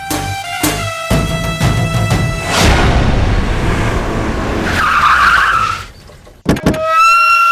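A car pulls away with a sharp tire screech and a roaring engine, loud and close. The roar swells and then cuts off suddenly before a short rattle returns at the end.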